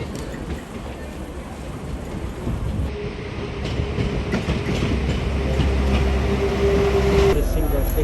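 A train rolls through a Manchester station, a steady loud rumble building over several seconds with a faint sustained squeal and low engine drone, busy platform ambience around it.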